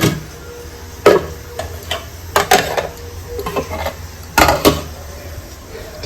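Lids are set onto pots of homemade dal in a home kitchen, several separate metallic clanks and knocks spaced irregularly, close and distinct against a quiet room hum.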